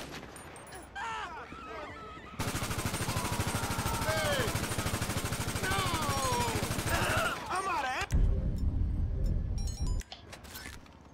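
Rapid bursts of gunfire from a compact Draco pistol in a video game, crackling loudly for several seconds over a busy game soundscape, followed by a deeper booming rumble near the end.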